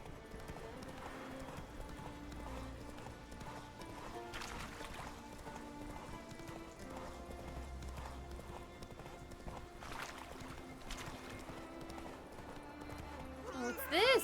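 Horse hooves clip-clop rhythmically during a horse race on Skellige in The Witcher 3 game, a steady fairly faint beat under a game soundtrack and talk.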